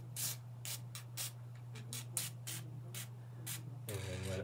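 DeoxIT contact cleaner is sprayed into the inside of a Roland D20 synth keyboard in a series of short hissing bursts, fairly faint, over a steady low hum.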